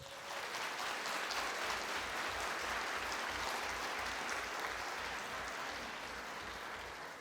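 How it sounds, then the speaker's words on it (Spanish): Applause from the audience at a university inaugural lecture and scholarship ceremony, a broad, even wash of many hands clapping that holds steady throughout with a faint low rhythmic thump beneath it. "Pido un aplauso para ellas y ellos"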